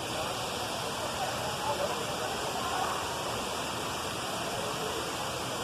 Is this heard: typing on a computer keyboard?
no